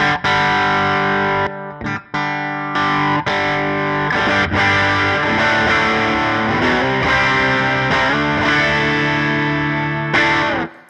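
Electric guitar played through the clear overdrive side of a Tone City Double Durple pedal, with loud sustained chords and riffs, a few brief pauses between phrases, and no talking.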